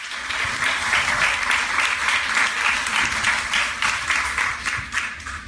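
An audience applauds Marielle after her talk, a loud, close burst of many hands clapping together, sustained and even for several seconds before easing slightly at the end.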